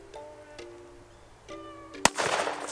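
A 12-gauge shotgun blast bursts a can of expanding foam outdoors, one sharp loud report followed by a rushing, hissing spray as the can blows apart, with faint quiet tones before the shot.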